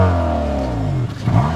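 A 2013 Honda Accord Sport's four-cylinder engine revs hard and high toward 7,000 RPM, pitch climbing and then dropping briefly before surging again, loud and close.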